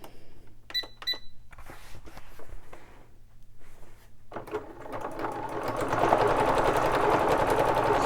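Sewing machine stitching a decorative leaf pattern, starting with short bursts of whirring and clicking, then settling into a steady, fast, close mechanical hum with rhythmic needle chatter, with no talking.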